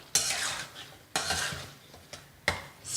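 A spoon stirs tomato chutney in a pan after curry leaves and coriander go in, four distinct scraping strokes against the metal with a faint sizzle between them, close and clear.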